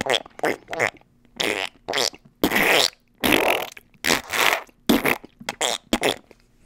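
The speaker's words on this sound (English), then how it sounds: "here's a wet fart" Wet fart sound effect from a royalty-free stock audio library, a series of short sputtering, squelchy bursts with brief gaps, loud and close, alternating with spoken commentary.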